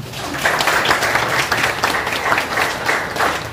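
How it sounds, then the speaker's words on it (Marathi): Audience applause at a college event marking India's independence celebrations, steady dense clapping from a crowd filling the hall, loud and sustained throughout. "आपण आभार व्यक्त करूया एकदा टाळ्या वाजवून"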